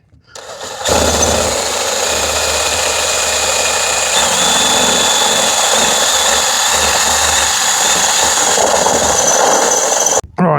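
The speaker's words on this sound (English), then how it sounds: "let's get the drill and drill those out" A power drill whirs loudly and steadily for about nine seconds, drilling out old holes in the roof of a Sprinter campervan, and then cuts off abruptly outdoors in a picking-up wind.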